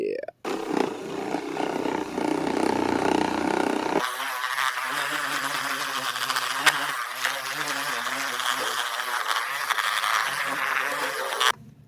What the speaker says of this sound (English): I got this Ryobi buffer at Home Depot, like 50 bucks.